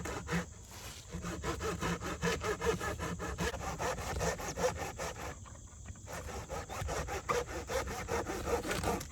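Small pieces of campfire wood are sawn in a steady back-and-forth rhythm of rasping strokes, close and fairly loud, with one short pause midway and no talking.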